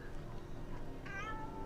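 A single cat meows in The Outer Worlds video game, a short rising-and-falling call that sounds clearly over a steady hum of game ambience.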